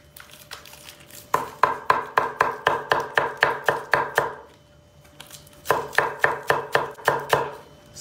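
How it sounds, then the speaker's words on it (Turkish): Rapid, steady knife chops finely cutting raw spinach against a cutting board in two bursts, crisp and close, with a short pause between the runs. "Ispanağı çiğden kullanacağımız için çok ince doğrayacağız."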